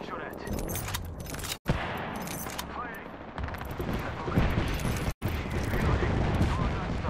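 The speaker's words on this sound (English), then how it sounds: "Getting shot at." Video game gunfire from a ranked battle-royale match crackles in dense, rapid bursts of automatic fire and loud shots, nearly continuous with two brief dropouts, a voice talking over it.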